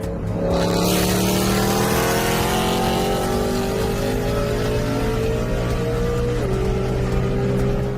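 A BMW S65 naturally aspirated V8 of about 400 horsepower revs in the Roblox racing game Midnight Chasers, a loud, steady engine note whose pitch climbs slowly, then dips and rises again near the end.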